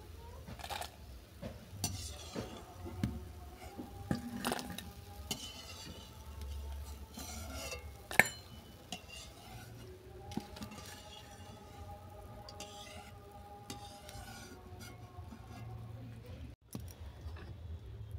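Boondi fries quietly in a pan while a slotted spoon stirs and lifts it, bringing soft sizzling with scattered scraping and metallic clinks in an irregular rhythm.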